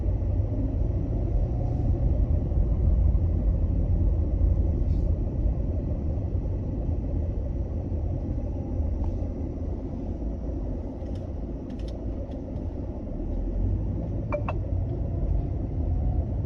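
A car's engine hums as the driver gives it more gas during a driving lesson in Jakarta, a steady low rumble from inside the cabin with little change in loudness and a few faint clicks.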